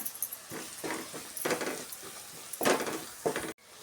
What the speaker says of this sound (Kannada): ಚೆನ್ನಾಗಿ ಈ ಥರ ನಾವು ಆಯಿಲಲ್ಲಿ ಫ್ರೈ ಮಾಡ್ಕೊಳ್ಬೇಕು